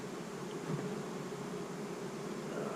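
Honey bees buzz at an open hive in a steady, dense drone close by, unbroken and even in level, with no voices.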